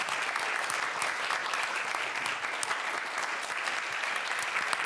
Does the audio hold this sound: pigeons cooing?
no